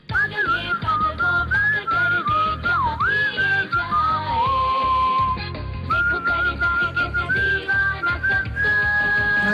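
A person whistles a tune, a clear, loud melodic line that slides and warbles through short phrases with brief gaps, over a busy musical backing.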